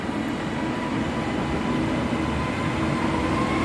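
A Class 331 electric train pulls away from platform 2 at Preston station, a steady, fairly loud rumble and rolling hum heard from the platform, with no voices.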